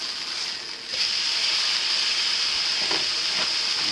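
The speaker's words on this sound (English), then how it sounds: "we got my burger cooking up" Burger patty frying in a cast iron pan with garlic, a steady close hiss of sizzling fat that swells louder after the first second, with a couple of faint scrapes near the end.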